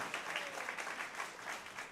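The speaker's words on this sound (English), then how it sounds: "Yes, we can applaud though." A crowd applauds steadily, a dense wash of many hands clapping at a moderate distance.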